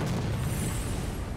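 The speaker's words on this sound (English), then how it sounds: "Oh my god, he just shot a cannon!" A cannon shot explosion in Sekiro: Shadows Die Twice: a broad, heavy boom fills the whole moment, loud and rumbling with a steady roaring body rather than a clean single crack.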